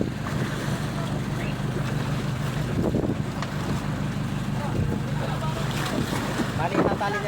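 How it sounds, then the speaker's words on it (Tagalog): A boat is towed closer across open water by a companion, heard under strong wind buffeting and waves slapping the hull, with people talking throughout. "na yung bangka nila ng Pacific at hinihila na ng isang kasama nila para lumapit"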